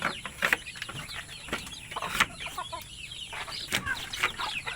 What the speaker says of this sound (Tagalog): Oh, mga sisiw po yan. Sisigla po yan mga sisiw na yan.